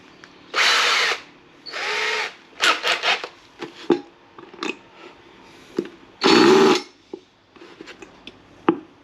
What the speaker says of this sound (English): So let's drill those out, because they seize